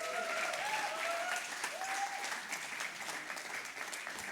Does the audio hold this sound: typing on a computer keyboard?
no